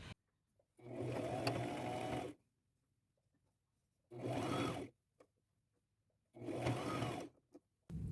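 A sewing machine stitches antique-style gold trim around a fabric and lace tote bag in three separate bursts, each a steady mechanical whir lasting a second or more, with quiet pauses between.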